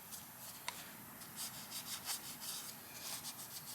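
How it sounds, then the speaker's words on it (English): A gasket surface on a new Harley-Davidson engine being scrubbed with a maroon Scotch-Brite pad during a big bore top-end build, giving faint, close, raspy rubbing strokes in a loose rhythm. "I'm going to use a piece of maroon Scotch-Brite for this."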